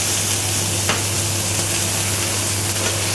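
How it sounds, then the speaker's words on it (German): Diced onions sizzle steadily in hot oil for a red mustard sauce, a close, even frying hiss with a brief scrape near the start and no voices. "Geben die Zwiebelwürfel in das heiße Öl rein."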